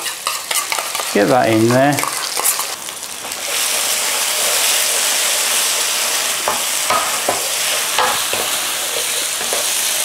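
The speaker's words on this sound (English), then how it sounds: "we need to cook the rawness out of this tomato puree" Tomato puree and curry paste frying in a hot pan, loud broad sizzling with stirring scrapes, a short spoken remark early on over the cooking.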